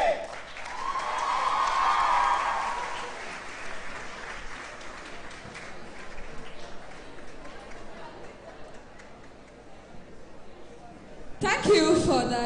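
Students at a Teachers' Day morning school assembly applaud, a broad wash of many hands clapping that swells early, then settles into a softer, steady patter with crowd murmur, ending in a brief louder burst.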